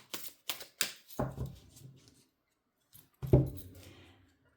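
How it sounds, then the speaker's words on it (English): A tarot deck being riffled and shuffled, several quick papery bursts followed by two longer flutters, close and fairly quiet with short pauses between. "I feel like they shuffle really well."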